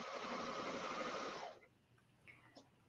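A Brother Airflow serger stitches fabric in a fast, steady whir for about a second and a half, then stops, leaving quiet room noise and a couple of faint clicks.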